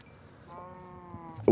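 A cow in the Minecraft video game lets out one drawn-out, tonal moo over quiet background game noise, ending in a brief louder thump.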